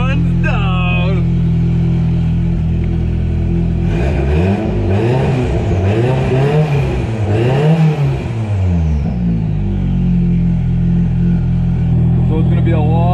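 A small kei car engine running on a swapped ECU idles loudly, then revs up and down in several rising and falling sweeps before settling back to a steady drone.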